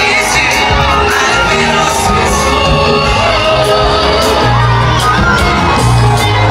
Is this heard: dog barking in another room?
no